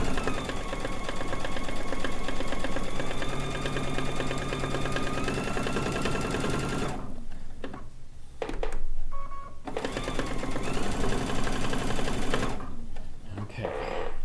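A domestic sewing machine doing free motion quilting, stitching slowly along the ditch of a quilt, runs in a steady loud mechanical hum that stops twice briefly, with a faint voice during the pauses.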